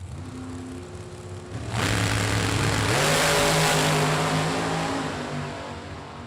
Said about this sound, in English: Now that's a drag race for you right there.